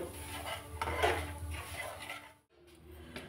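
A spoon scrapes and knocks against a metal pot while semolina fries in ghee with a bay leaf and cardamom, irregular clinks and rubbing strokes up close, briefly pausing before resuming.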